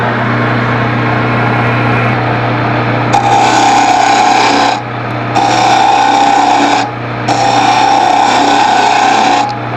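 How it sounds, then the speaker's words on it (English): A round nose scraper hollows the inside of a wooden lidded box on a lathe under a steady motor hum, the tool cutting in three sustained bursts separated by brief pauses. "what I'm trying to do with the round nose scraper is to just clear out the interior"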